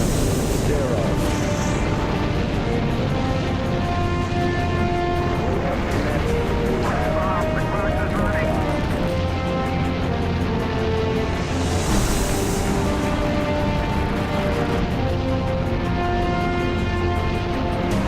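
Saturn V rocket engines roaring at launch, a dense, continuous, loud rumble filling the whole stretch with no letup, with broadcast commentary and voices running over it.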